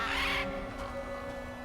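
Bird call in God of War Ragnarok, a hoarse crow-like caw bursting loudly at the start, then fading into a quiet, sustained tonal game ambience with no speech.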